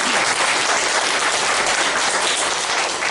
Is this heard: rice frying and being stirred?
no